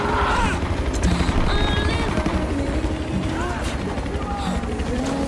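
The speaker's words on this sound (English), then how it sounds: "Enemy helicopter coming in too now." A helicopter's chopping drone fills the scene amid Battlefield 4 game noise, with scattered mechanical clatter and bursts that sound like gunfire in the background.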